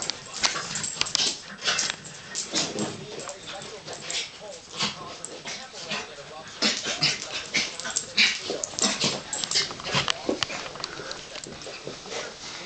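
Two dogs play rough together, giving whimpers, yips and snarly noises in quick bursts, while people talk and cheer over them.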